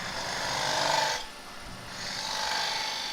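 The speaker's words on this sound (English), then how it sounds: "A sharp scraper always helps." A sharp scraper shears across the end grain of a monkey puzzle wood bowl spinning on a lathe, giving a steady rasping hiss that dips briefly and then resumes, close and continuous.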